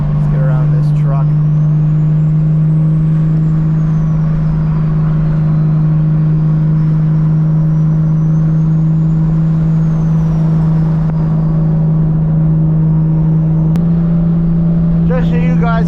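Strong low engine drone from a 600-horsepower Lexus IS300 cruising near 75–80 mph on the highway as it pulls out to pass a truck, holding a steady loud roar with brief throttle changes near the end.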